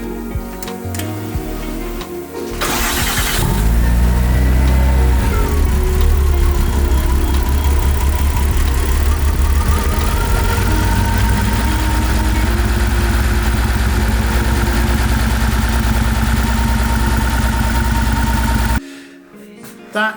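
A Porsche 964 engine idles in a workshop engine room: after a short start-up burst it settles into a loud, steady, even rumble for about sixteen seconds, then cuts off abruptly near the end.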